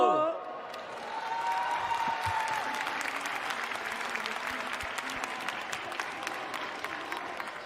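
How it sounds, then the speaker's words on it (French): Applause from a school audience at an agricultural competition's oral presentation round, a dense sustained wash of clapping that rises after a brief opening and continues steadily, with a voice briefly audible at the start. "faites-moi un tonnerre d'applaudissements pour cette dernière équipe"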